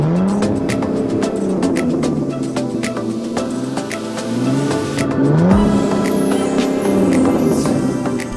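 Jaguar F-Type sports car driving on a country road during a London-area shoot, its engine revving up and down through gear changes with loud, close acceleration and a rising roar near the end.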